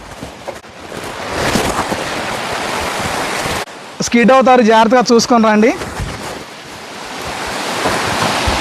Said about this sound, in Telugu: ఆ సౌండ్ వినిపిస్తుంది కదా, పైనుంచి వాటర్ అనేది ఫ్లో అవుతుంది.